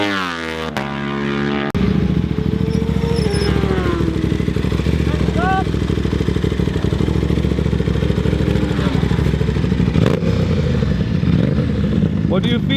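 A motorcycle being ridden, its engine note climbing after a brief low idle, then a loud, sustained close-up drone with rhythmic mechanical clatter over about eleven seconds.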